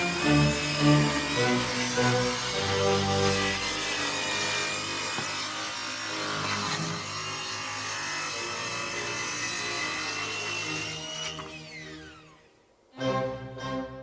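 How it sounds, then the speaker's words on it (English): A Skilsaw circular saw trims the bottom of a wooden fence, whining with a steady tonal drone through a long cut, then winding down, followed by a short second burst near the end. "so I'm going to use my skill saw here to trim off the bottom"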